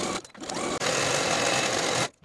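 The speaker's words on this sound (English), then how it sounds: "I'm going to be using my serger." A serger (overlocker) running continuously as it finishes the inseam of a pair of sewn pants, with a brief pause early on before a steady, close, loud whir that stops abruptly at the end.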